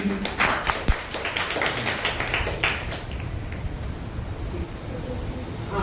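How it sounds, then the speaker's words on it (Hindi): Audience at a school debate competition on social media and artificial intelligence claps in a dense, loud burst of many hands for about three seconds, then the crowd noise settles into a steadier, fainter murmur. "तालियां से हौसला बढ़ाइए साहब"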